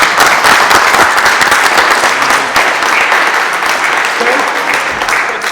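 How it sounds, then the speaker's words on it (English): Loud audience applause fills the space, with a thick mass of clapping that stays strong and gradually eases slightly toward the end, close and full-sounding. "Please give a round of applause for that."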